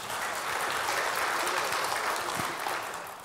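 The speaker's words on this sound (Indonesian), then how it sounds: "Ya tepuk tangan dulu lah buat Metro TV" An audience at a small-business event claps for a TV station, a sustained burst of moderately loud applause that swells and then fades toward the end.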